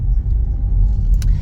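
Interior road rumble of a 2024 Buick Envista driving, a loud steady low drone of engine and tires with a faint light click near the end, no talking.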